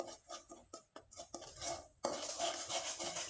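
A spoon scraping and clinking in a pan while stirring a mixture of jaggery and rice, with irregular taps at first, then a steady rasping stir close by and no talking.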